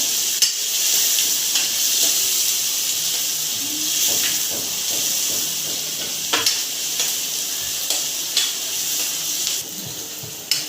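Chopped onion fries and sizzles in a pan for chicken angara, a steady bright hiss broken by occasional soft clinks and scrapes of a spoon stirring.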